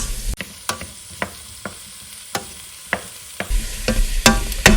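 One and a half pounds of sausage browns in a soup pot for swamp soup, a steady sizzle punctuated by sharp scraping clicks of a spoon stirring at uneven intervals, close and loud, busier toward the end.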